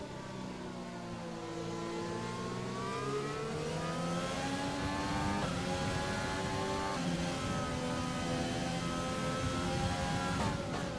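A Formula 1 racing car engine in a video game, revving high and steady with a continuous loud whine that climbs and shifts pitch through gear changes, heard alone.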